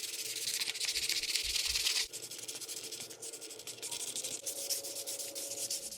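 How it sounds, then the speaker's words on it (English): Wet sanding a painted MKIV Supra dash panel by hand with 600 grit wet sandpaper: continuous close scratchy rubbing strokes, heavier for the first two seconds, then a steady lighter scrub with no voices. "we're going to go ahead and wet sand it real quick"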